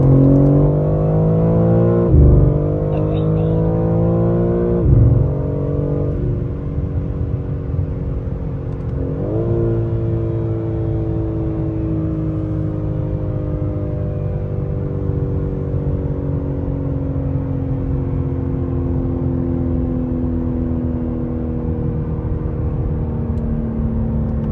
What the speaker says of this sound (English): I do have my shifting points set out a little further on the RPMs, so it drags it out a little bit longer.